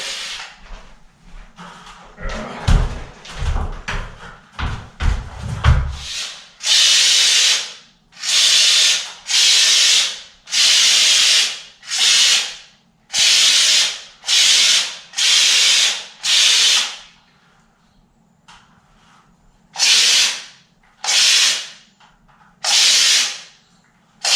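A texture sprayer hisses in a string of about a dozen loud, steady bursts, each lasting roughly a second, spraying knockdown texture onto a ceiling, after some scraping and clunking at the start.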